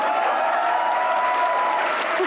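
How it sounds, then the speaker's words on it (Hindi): Loud, dense applause from a TV comedy show studio audience fills the whole moment, a continuous wash of clapping. "जरा तालियां बजाएं"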